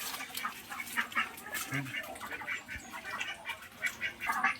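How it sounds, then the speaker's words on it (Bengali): Domestic ducks, a group of six kept with grain feed nearby, quack intermittently in short bursts at moderate distance over steady outdoor background noise. "এই যে ছয়টা পাতিহাস এখানে যাস না যাস না এখানেই থাক"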